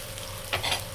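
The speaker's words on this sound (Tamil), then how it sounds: "வெங்காயத்தை நன்றாக பொன்னிறமாக வரும் மாதிரி எப்படி வதக்கிக்கிட்டே இருக்கணும்" Onions sizzle in a frying pan for karuvadu thokku, a close steady hiss with a brief scrape of stirring near the end, with no talk.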